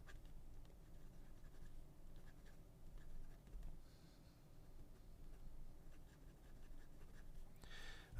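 A pencil scratches steadily across paper in a close, quiet take, a constant soft grainy rasp with small ticks and a brief brighter stroke near the end.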